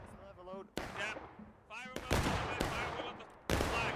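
Musket volleys in the Civil War shooter War of Rights on the Otto and Sherrick Farm map, several sharp loud reports in quick succession with someone talking in between.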